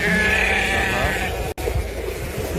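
A sheep gives a loud, sustained nearby bleat that breaks off abruptly, followed by rough background noise.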